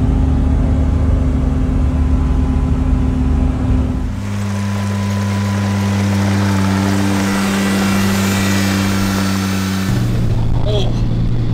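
Kubota side-by-side utility vehicle driving to a frozen lake for ice camping, its engine a loud, close, steady drone that shifts pitch midway, with people talking over it.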